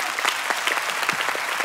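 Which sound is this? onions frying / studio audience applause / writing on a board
studio audience applause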